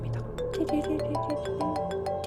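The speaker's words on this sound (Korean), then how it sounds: "핸드폰이 울리기 시작합니다." A mobile phone begins ringing with a bright, repeating melodic ringtone, a quick run of electronic notes playing steadily and clearly.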